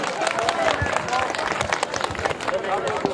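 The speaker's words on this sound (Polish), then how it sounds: "I bardzo proszę o gromkie brawa." Loud, dense applause from an audience at a village tournament event, steady clapping throughout with crowd murmur mixed in.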